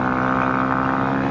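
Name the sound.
Honda CRF 250 Rally motorcycle engine with aftermarket exhaust pipe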